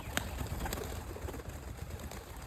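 Pigeons, including young birds, coo softly in a loft, low murmuring calls with faint rustling in the background.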